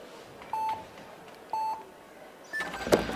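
Two evenly spaced electronic start beeps at a speed climbing World Cup final in Villars sound about a second apart, followed by a higher, longer tone as a crowd stirs faintly in the background.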